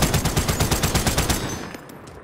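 Rapid automatic gunfire in a video game, a loud, evenly spaced burst of about a dozen close shots that stops abruptly, leaving a short decaying tail.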